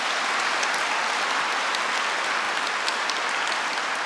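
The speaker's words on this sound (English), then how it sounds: "A huge round of applause for all the support provided by Edinburgh Napier University." Audience at a university graduation ceremony claps in a steady, dense round of applause that fills the hall without a break, with no voices standing out above it.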